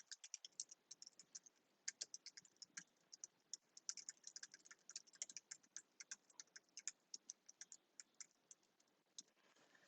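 Fast, irregular keystrokes on a computer keyboard, steady and fairly quiet, with no talking.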